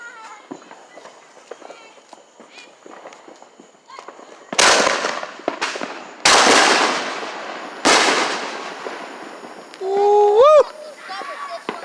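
Firecrackers and fireworks bang in a neighborhood street celebration, three or four sharp loud blasts with long crackling tails, followed by a rising whistling rocket near the end, with faint background chatter between bursts.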